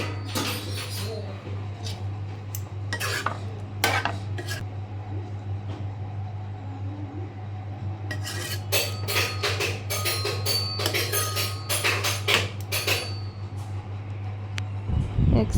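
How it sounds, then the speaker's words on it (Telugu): Little Suhas bangs on drums at home, loud, irregular bursts of hits that come in clusters with short pauses, over a steady low household hum. "మా సుహాస్ నిద్ర లేచాడు, డ్రమ్స్ కొడుతున్నాడు"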